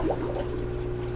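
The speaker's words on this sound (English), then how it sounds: "And we got water coming in" Water flows into an aquarium system's lines after a button is pressed, with gunk carried along, making a soft steady trickling pour under a low constant hum of equipment.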